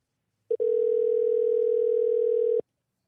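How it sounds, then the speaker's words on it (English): A phone call goes unanswered, heard as a brief tone blip followed by a single long, steady ringback tone lasting about two seconds, clear and alone. "He ain't gonna answer you from your phone number, Chris."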